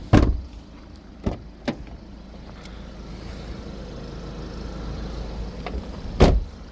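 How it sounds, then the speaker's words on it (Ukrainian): A 2011 Dacia Logan MCV's 1.6 petrol engine idles with a steady low hum, broken by a few sharp clicks and knocks near the start and end. "Чуєте, як працює двигун?"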